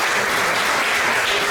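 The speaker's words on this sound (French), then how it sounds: "Je vous demande de l'applaudir." Audience applause at the inauguration of a high-tech production studio in Guadeloupe, a dense, steady wash of clapping from a crowd, loud and continuous throughout with no voices over it.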